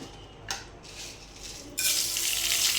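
Cumin, mustard seeds and black gram tempering dropped into hot oil for a Guntur-style coconut chutney, a brief sizzle burst then a loud steady frying hiss that swells and continues, with no talking.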